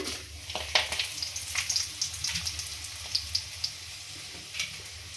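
Dry red chillies frying in hot oil for tempering, a steady soft sizzle and crackle with small pops, close and continuous, no voices.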